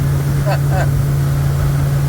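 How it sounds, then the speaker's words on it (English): Motorboat engine running steadily on a homebuilt boat at sea, a constant low droning hum held throughout, with brief voice-like sounds partway through. "The engine's running."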